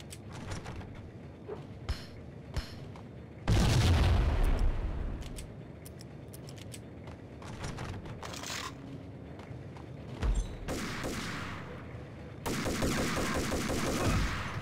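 A grenade explosion and gunfire in the PS2 game Max Payne: a deep, loud blast, then ongoing crackling shots and a few more sharp bursts of fire, all close and heavy.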